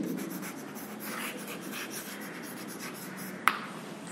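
Marker or chalk writing on a board during a Hindi grammar lecture, soft continuous scratchy strokes with a brief sharp tap near the end.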